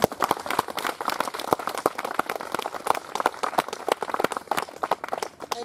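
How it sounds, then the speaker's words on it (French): Audience applause for Marie at an event in her honor, dense steady clapping from a crowd in a room, sustained and fairly close throughout, with no talking over it. "vous pouvez applaudir Marie."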